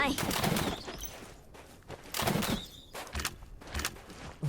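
Gunfire in Naraka: Bladepoint comes as several sharp bursts of shots spaced about a second apart, mixed with excited talking throughout.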